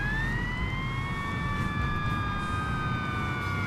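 A fire truck siren in the video game Fire Fighting Simulator wails continuously, its tones gliding slowly up and down over a steady engine hum.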